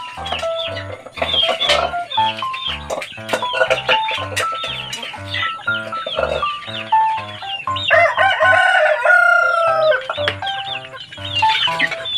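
Roosters crow repeatedly and hens cluck loudly and continuously, several birds calling over each other close by.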